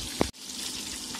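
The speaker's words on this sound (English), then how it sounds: "and still cooking the bacon" Bacon frying on a stove gives a steady soft sizzle and crackle, broken by one brief knock near the start.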